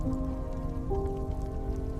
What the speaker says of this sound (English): steady rain, not dramatic, not a storm, just rain